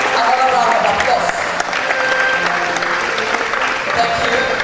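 A conference audience gives the provost a strong round of applause at a College of Medicine plenary session, loud close clapping with voices mixed in.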